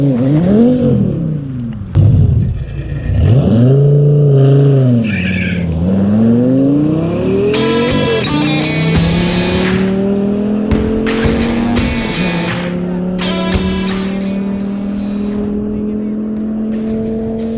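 A Viper muscle car revs loudly at a Swedish muscle car meet, engine rising and falling through several blips before pulling away through the gears, with clicks and rattles mixed in and people talking nearby.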